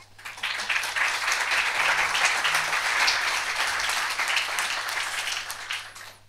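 Applause from a debate audience, dense continuous clapping throughout, loud and steady with a slight fade at the end, a low steady hum underneath.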